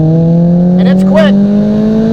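Steady engine drone from a BMW E30 M3 under way, harmonics holding fairly even with a short rising sweep near the middle, heard from close by inside the car.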